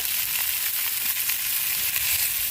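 Fish fries in coconut oil on a banana leaf, giving a loud, close, unbroken hiss of sizzling with fine crackles throughout.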